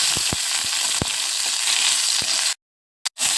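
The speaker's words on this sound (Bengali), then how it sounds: "এভাবে নেড়ে নেড়ে ভেজে নিতে হবে।" Meat fries in hot oil for a momo soup, a loud steady sizzle broken by stirring knocks and scrapes, then cutting to silence near the end.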